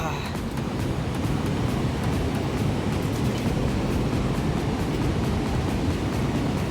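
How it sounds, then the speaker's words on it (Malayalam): Athirappilly waterfall heard from close range gives a continuous, dense rushing roar of falling water, loud and even from start to finish, with some wind buffeting on the microphone. "ഇത് ലൈവായിട്ട് അടുത്തുനിന്നുള്ള വെള്ളച്ചാട്ടമാണ്"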